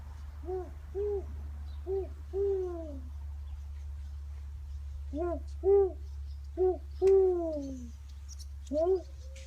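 A voice imitates a pigeon with soft, breathy hooting coos. They come in two clusters of four or five, each coo short and rising or swooping, close up over a steady low hum.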